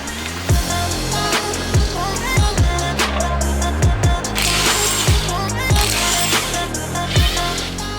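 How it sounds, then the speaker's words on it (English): A power tool or ratchet on a wrecked Audi RS3 buzzes in repeated short bursts as screws come out of the wheel arch liner and bumper, loud and close with rhythmic whirring pulses, partly under music. "We start off with removing a ton of screws from the wheel arch line area and the bumper."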